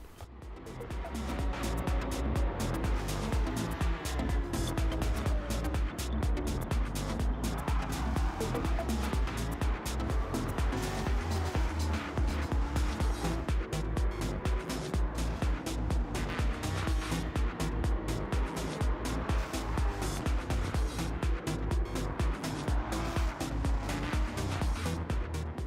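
A C3 Corvette Stingray with a swapped engine roars steadily at high revs in Gran Turismo 7, loud and continuous throughout with dense harmonics and shifting pitch under the racing.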